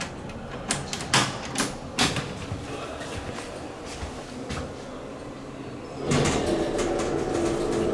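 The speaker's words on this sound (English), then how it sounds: "Look how slow this door is." The door of a Schindler hydraulic parking elevator at the Beck Building, Museum of Fine Arts, slides slowly with a rumbling mechanical drone, preceded by sharp clanks and knocks, then a louder steady whir at the end.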